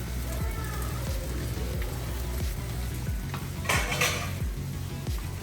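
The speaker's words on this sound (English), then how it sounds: "And just start stirring the scrambled eggs" Scrambled eggs are stirred in melted butter in a pan, a busy stream of rhythmic scraping and clinking strokes over a soft sizzle, close and continuous.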